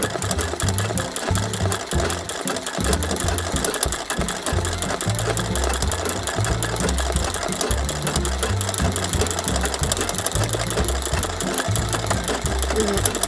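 A sewing machine embroiders a small button on a three-rose embroidery piece, a continuous fast mechanical stitching rattle that is loud and close and runs without pause from start to end.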